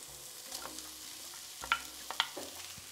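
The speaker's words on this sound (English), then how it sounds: "Mix the whole thing together." Cooked aubergines being stirred into a chickpea moussaka in a pan, with a faint sizzle under soft scraping and a few sharper clinks of the utensil against the pan.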